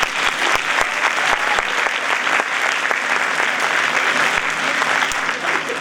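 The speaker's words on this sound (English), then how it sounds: "Please hear another round of applause." A school winter band and chorus concert audience applauds, a loud, dense burst of clapping with sharp individual claps standing out, sustained evenly for several seconds.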